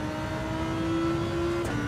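Subaru BRZ engine in the racing game Gran Turismo 7, a steady held engine tone with a slight rise before a brief dip near the end, continuous and fairly quiet, with no voices.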